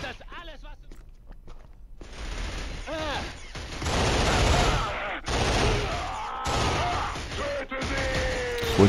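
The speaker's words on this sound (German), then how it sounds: "Jetzt weißt du erstmal, was schwerer Beschuss ist." Heavy, sustained gunfire in the first-person shooter Killzone, dense overlapping shots forming a continuous roar with brief breaks, with someone talking briefly near the start.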